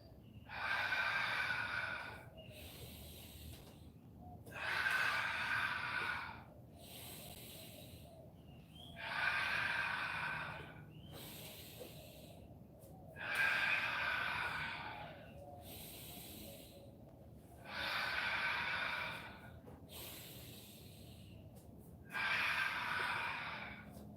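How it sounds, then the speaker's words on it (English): Deep, forceful breaths during a workout, each long exhale a loud rushing burst, repeating roughly every four seconds in a steady cycle, close to the mic with no speech. "Inhale. Exhale. Inhale. Keep it moving."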